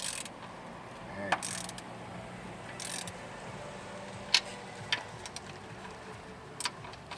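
A ratchet or wrench clicks intermittently while strut bolts are tightened during a strut change, with scattered sharp metallic ticks and clanks over a quiet background hum.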